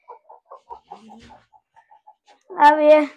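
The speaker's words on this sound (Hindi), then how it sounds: "कुड़क मुर्गी खुद ही बता देती है कि वो बैठने हैं अंडों पे।" A broody Aseel hen gives a run of soft, evenly spaced low clucks up close, then breaks into a louder drawn-out squawk, with someone speaking briefly over it.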